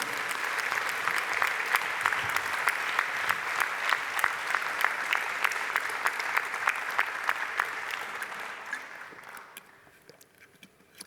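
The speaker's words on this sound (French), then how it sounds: "Vous pouvez les applaudir." A large union congress audience applauds in a hall, a dense steady clapping that carries on for several seconds and then thins and fades toward the end.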